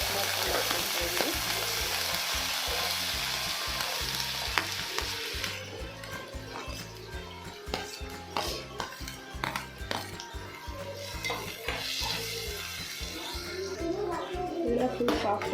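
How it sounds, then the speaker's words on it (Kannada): Chopped onions fry in hot oil for egg bhurji, giving a strong continuous sizzle with rhythmic stirring scrapes and clinks of a utensil against the pan. "ಆಯಿಲ್ ಬಿಸಿ ಆದಮೇಲೆ 2 ಆನಿಯನ್ ತಗೊಂಡು ಸಣ್ಣ ಕಟ್ ಮಾಡ್ಕೊಂಡು ಹಾಕ್ಕೊಂಡಿದ್ದೀನಿ"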